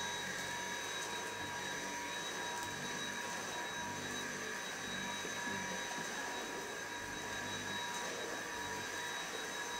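A Dyson V8 cordless vacuum cleaner runs on its low speed setting near a kitchen sink, giving a steady, continuous motor whine with a few high tonal lines. It stays close and constant for the whole stretch with no talking.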